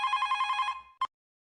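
A telephone bell rings in a rapid trilling burst, stops, then gives one short final ring before silence.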